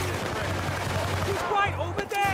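Gunfire in the Battlefield: Bad Company video game, with rapid bursts and single sharp cracks over a low rumbling backdrop, close and loud, and a voice talking over part of it.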